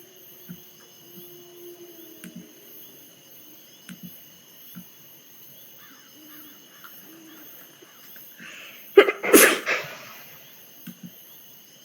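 One sudden, loud sneeze bursts out near the end during a tabletop Dungeons & Dragons session, following a quiet stretch of faint background hum and small scattered noises.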